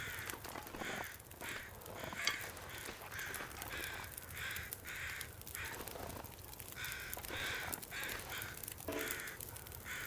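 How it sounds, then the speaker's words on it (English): Crows caw repeatedly in The Long Dark video game, harsh calls recurring in an irregular rhythm over a steady windy outdoor ambience, moderately distant and with no talking. "Stupid crows."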